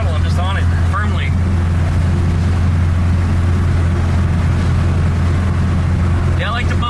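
The air-cooled engine of a VW Type 3 automatic drones loud and steady under firm throttle, a constant low rumble filling the cabin while a driver talks over it.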